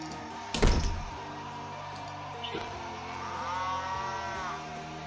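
In a burger barn horror video game, a sudden heavy thunk is followed by a low, drawn-out cow moo that swells later, set against a quiet, droning ambience with no voices.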